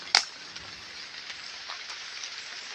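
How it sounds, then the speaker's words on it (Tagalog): Steady light rain patters on surfaces nearby, a soft continuous hiss with one sharper tap near the start. "Medyo kukunti na lang yung ulan mga guys."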